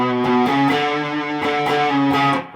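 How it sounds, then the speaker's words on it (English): Distorted electric guitar chords through an amp's distortion channel ring out loud and sustained, with a few rhythmic changes and no voices. "If I switch over to channel 2 on my amp, the distortion channel"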